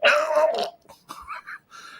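A voice imitates a baby guzzling and choking while feeding, a loud rough gurgling cough followed by smaller throaty gulps and sputters, heard alone.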